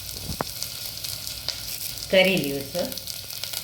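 Curry leaves and green chillies fry in hot oil for a Mangalore Udupi style mutton rasa, with a brief loud crackling sizzle midway that settles into a softer, steady fry. A voice speaks briefly over it.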